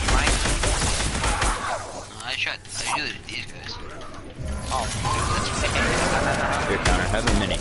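Video game gunfire, with dense bursts of shots and crashes close by and a brief lull midway, mixed with speech from players.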